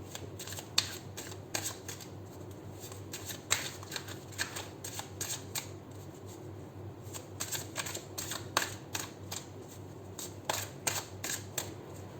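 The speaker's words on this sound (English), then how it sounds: "7 shuffles, and then we'll pull out 5 cards from here." Tarot cards shuffled by hand in repeated bursts of crisp riffling and tapping, close and fairly quiet, with brief pauses between shuffles.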